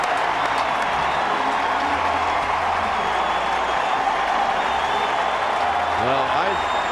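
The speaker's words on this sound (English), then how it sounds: "Matt Cain is on the field now, being saluted by the crowd live here and responding to the crowd" A ballpark crowd at a Giants versus Astros baseball game roars and applauds Matt Cain after his 2012 perfect game, a dense, sustained wall of clapping and cheering under a commentator's voice.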